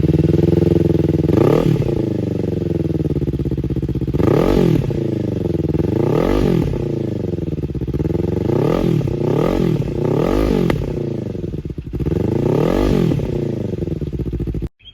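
Kawasaki Ninja 500 motorcycle fitted with a LeoVince GP Corsa exhaust, revved repeatedly at close range in a series of sharp throttle blips that rise and fall over a steady idle, loud and with no talking.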